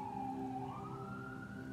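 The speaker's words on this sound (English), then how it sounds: "we have these sirens out here" An emergency vehicle siren wails outside, faint and distant, its tone sliding upward over a low background rumble.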